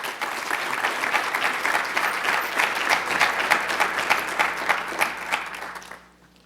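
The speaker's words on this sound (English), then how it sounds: "Let's give a big round of applause to Mr." An audience applauds to welcome a speaker, dense and even clapping that holds steady for several seconds and then cuts off abruptly.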